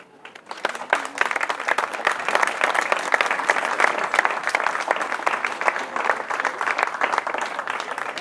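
Sustained audience applause at the Exporose 2019 rose show award ceremony in Grasse, a dense, even wash of many hands that swells in quickly after a quiet start and holds steady throughout.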